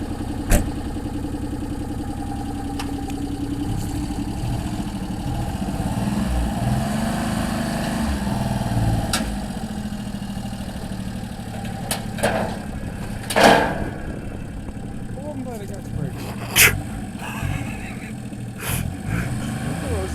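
Subaru Justy engine running and revving as the small car drives and spins out, a steady buzzing drone with bursts of higher revving toward the end, under ongoing talk.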